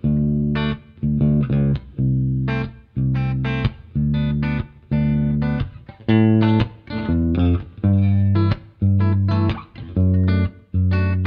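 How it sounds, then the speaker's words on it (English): A seven-string electric guitar with distortion chugs through short, heavy palm-muted chord bursts separated by brief gaps, loud and close with no voice present. "typically when people think about 7-String guitars, they associate it with modern metal and math rock"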